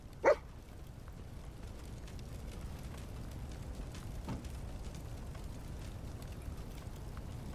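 Dogmeat, the companion dog in Fallout 4 VR, gives a single short, faint bark near the start, followed by a second softer yip amid quiet game ambience.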